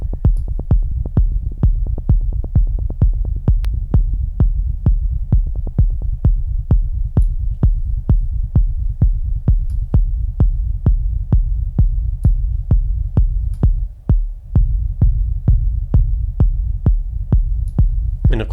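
Techno rumble bassline shaped by a compressor and raised filter resonance, a loud steady train of thumping low pulses with a throbbing hum underneath, briefly dipping near the end.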